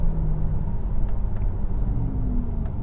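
A 2022 Porsche Taycan RWD electric car cruises at speed on a highway, giving a steady low road and wind rumble that continues throughout, with no talking.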